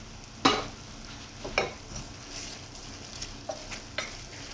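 Flour is stirred into hot oil in a pan to make a roux for chicken gravy, with a soft, even sizzle broken by several sharp scraping strokes of a utensil, close up and with no voices.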